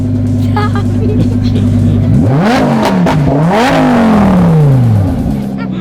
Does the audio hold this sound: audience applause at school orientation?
no